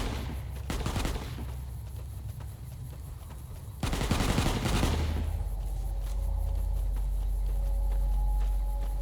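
Hostile gunfire in Fallout: New Vegas, a loud rattle of shots at the start and another heavy burst near the middle over a low steady rumble, with nearby shooting rather than distant.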